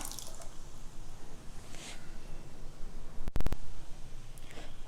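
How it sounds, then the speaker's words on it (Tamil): Cooked lentils are poured into a pan of chow chow (chayote) for sambar, giving soft wet squelches and drips, with a brief sharp clatter near the end. "கால் கிலோ பருப்பு வேக வச்சு எடுத்து வச்சுருக்கிறேன், அதை இதில் ஊற்றிக்கலாம்."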